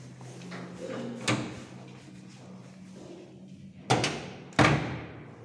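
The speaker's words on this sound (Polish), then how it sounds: "Te drzwi zostawiam tam." An old lift door at Mokotowska 12 in Warsaw, one of two rare ZUD elevators, thuds shut with two sharp close impacts near the end after a quieter rumble, recorded close by.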